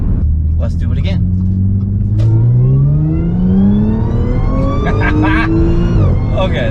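A fire-damaged Audi S4 accelerates hard, the loud engine note climbing steadily through the revs in a long rising pull, heard from inside the car with people talking over it.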